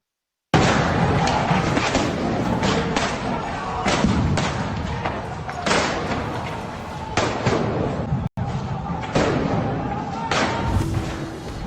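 Repeated heavy booms and bangs from bomb explosions during a riot at Al-Aqsa Mosque in Jerusalem ring out in quick succession amid crowd noise, loud and reverberant, with shouting voices mixed in.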